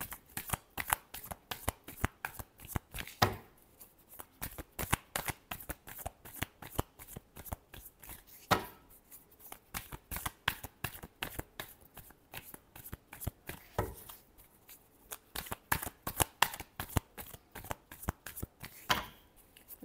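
Tarot cards are shuffled by hand in a quick, uneven run of crisp riffling slaps that repeat close-up for the whole stretch, with no talk over them.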